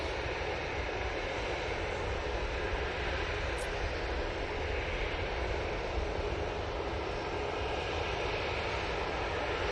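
A Jet2 airliner departs from Manchester Airport for Pisa, its engines producing a steady, broad roar that holds level throughout at middle distance.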